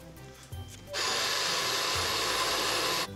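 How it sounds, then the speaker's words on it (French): Blender running at full speed as it purees artichoke soup made with almond milk, a loud steady whirring roar that starts abruptly after a few soft knocks and runs for about two seconds before cutting off. "On vient de mixer la soupe."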